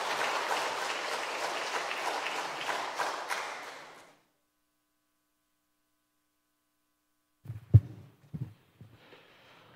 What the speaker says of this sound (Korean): 박수로 맞으시면 감사하겠습니다.